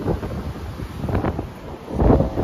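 Strong wind buffets the microphone in bad weather aboard a US Navy ship at sea, a loud rough rumble with gusty surges and no voices.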